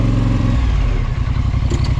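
Polaris Sportsman 850 ATV fitted with a spark arrestor exhaust, revving loud and close, its rough, pulsing exhaust note dropping slightly in pitch partway through, with no voices.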